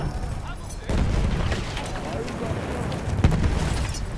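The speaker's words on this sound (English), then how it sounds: "So much grenade spam." Grenade explosions in Battlefield 1 on the Achi Baba map, a low rumbling blast followed by a sustained roar and another sharp burst, with voices talking over the chaotic battlefield din.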